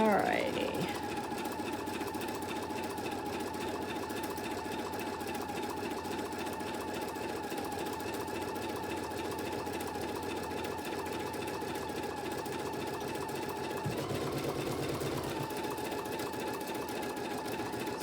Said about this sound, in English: So that's the first placement stitch.